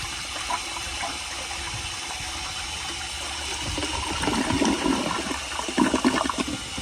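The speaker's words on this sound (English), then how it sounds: "Now, here is another flush." A 1983 Eljer Hygeian toilet flushes with a rushing gush of water that swells in the second half into gurgling, turbulent draining as the bowl empties, heard close and alone without any talking.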